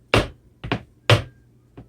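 Sharp foot taps on a hard floor from a caballito footwork dance step: a single strike, a quick double, another strike, then a faint final tap, in an uneven rhythm.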